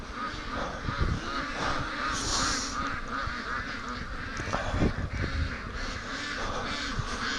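Free-range ducks in a pen quack in scattered, overlapping bursts against a busy outdoor background, moderately close and fairly loud, with no one talking.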